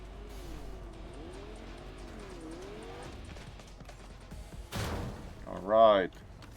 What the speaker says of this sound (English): We got also blasted by the car.